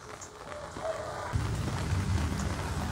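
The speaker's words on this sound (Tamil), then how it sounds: "மழை இருக்குது பார்த்தீங்களா, கம்மியாக தான் இருக்குது" Light rain patters over a home rooftop terrace garden, a soft steady hiss of drops that thickens partway through into a fuller, lower wash of falling water, with no voices.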